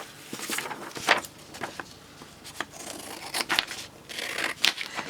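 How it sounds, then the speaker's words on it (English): Large scissors snip through plain printer paper in a series of close, crisp cuts with light rustling between them, irregularly spaced and moderately loud. "let us cut that out. I need my bigger scissors for this."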